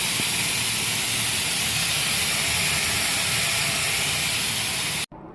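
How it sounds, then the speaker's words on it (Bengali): A pressure cooker cooking meat lets off a loud, continuous hissing jet of steam at close range, roaring steadily for about five seconds before stopping abruptly, with no talking. "এদিকে প্রেশার কুকারে সিটি উঠে গেছে"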